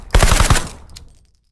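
A short burst of rapid gunshots from the video game Hot Dogs, Horseshoes & Hand Grenades, about five sharp, loud cracks in quick succession, then a brief fading tail and metallic clicks.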